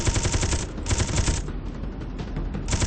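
Missiles launch in rapid bursts in Space Engineers, a dense, loud stream of crackling, rattling blasts that fire in clustered volleys with brief gaps between them.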